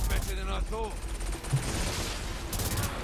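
Dense, chaotic gunfire from the video game Saints Row 4, a continuous barrage of overlapping shots and blasts with a brief voice near the start.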